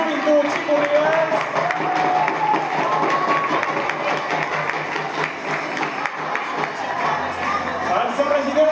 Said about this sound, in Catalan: Un fort aplaudiment per regidor de Joventuts i Corriols